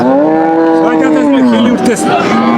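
A loud, close cow's moo, long and drawn out, with the pitch sliding down, and crowd noise behind it at a cattle market.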